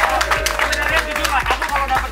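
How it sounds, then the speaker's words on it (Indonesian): A group claps hands in a steady, fairly quick rhythm behind a blind chess match, with talking mixed in. "Gila, tepuk tangan."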